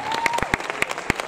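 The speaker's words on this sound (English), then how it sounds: "can we have a round of applause for Stephen?" Scattered audience applause at a marketing conference talk, a few sharp distinct claps over a thin crowd patter, briefly heard without speech.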